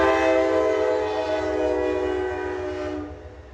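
A train horn blares loud and steady with a sustained harmonic chord for about three seconds before cutting off and leaving a brief fade, heard alone with no talk.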